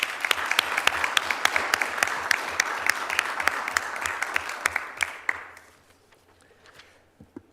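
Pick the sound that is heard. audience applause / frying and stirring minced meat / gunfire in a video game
audience applause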